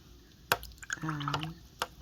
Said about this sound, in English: I'm going to wet my brush.